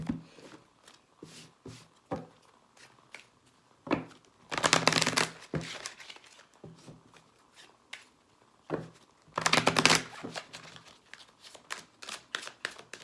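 Cards being shuffled in quick riffling bursts, with two louder, longer riffles standing out among lighter taps and flicks.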